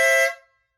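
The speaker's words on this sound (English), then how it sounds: "And then the air horn" A single loud, brassy blast from a motorcycle air horn fitted to a Honda Grom, held briefly and then cut off, ringing out in a short fading tail.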